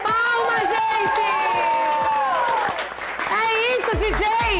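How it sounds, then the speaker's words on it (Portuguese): Studio audience on a Brazilian TV variety show applauding and cheering, a loud, dense roar of clapping with shouts, a host speaking over it. "Palmas, gente!"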